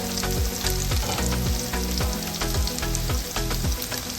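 Black chickpeas and onion fry loudly in hot oil, a dense close sizzle with rhythmic scraping strokes of a spatula repeating throughout.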